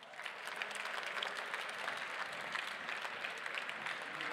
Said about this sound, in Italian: Ci siamo, allora un altro grande applauso